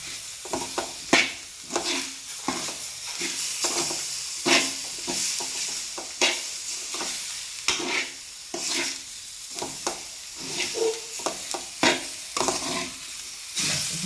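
Tomatoes frying and being stirred into a chicken curry base in a hot pan, a steady sizzle broken by repeated scraping stirs at an irregular rhythm, close and fairly loud with no talk.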